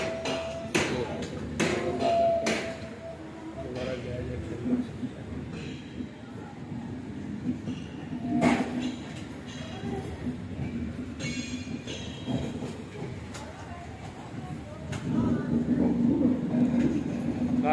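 The Badmer SF Express passenger train runs on its rails with a steady rumble and repeated clanks and knocks from the wheels, with occasional squeals, while people talk quietly inside the coach.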